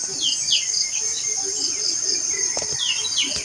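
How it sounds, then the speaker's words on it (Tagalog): A gangis-gangis insect, a kind of cricket, trills in a continuous high shrill buzz, close and steady throughout, with faint bird-like chirps mixed in. "Gangis-gangis ni siya insekto."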